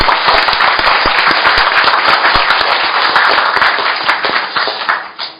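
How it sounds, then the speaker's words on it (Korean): Loud, sustained applause from an audience at a Korean opposition party forum, dense clapping with sharp individual claps standing out, holding steady before tapering off at the end. "박수를 한번 크게 보내주시면 좋겠습니다"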